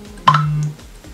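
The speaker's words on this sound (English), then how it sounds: "That's my phone going off." Short electronic phone notification chime for a Snapchat alert, a single bright tone lasting about half a second, close and clear with no talking.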